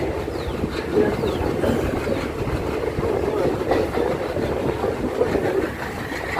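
A passenger train hauled by an ALCO diesel locomotive on the Velankanni to Ernakulam run, heard from inside a sleeper coach as a steady rumble of rolling wheels and rail clatter, continuous and moderately loud throughout.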